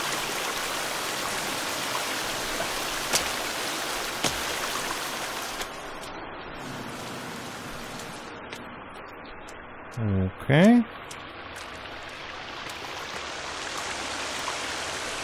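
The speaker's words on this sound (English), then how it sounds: "So this is the source of the waterfall." Waterfall in the survival video game The Forest, inside a cave: a steady broad hiss of falling water running throughout, with someone talking over it and a couple of brief louder bumps.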